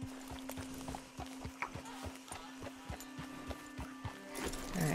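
Horse hooves clip-clop at a walking pace in the video game Red Dead Redemption 2, a steady run of soft thuds through the whole stretch beneath a constant hum, with a brief swell of other noise near the end.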